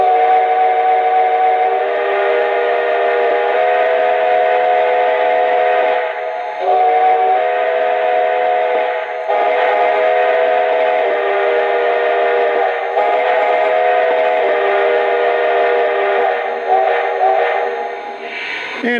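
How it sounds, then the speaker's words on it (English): A Lionel 2-10-4 Texas model steam locomotive sounds its whistle, a loud, sustained multi-tone chime blowing almost continuously with a few short breaks, close and alone. "Okay, first up, let's check out the whistle."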